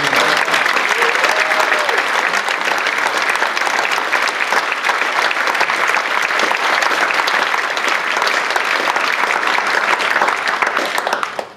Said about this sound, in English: why don't we have a big round of applause for all the partners of deployed